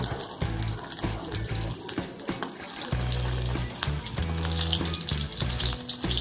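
Scotch eggs deep-frying in a pan of hot oil give a steady, loud, dense sizzle and crackle that runs through the whole stretch, with no voices.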